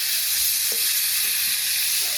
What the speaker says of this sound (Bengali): এখন আবার উনুনে বসিয়ে মাছগুলো ভেজে নেব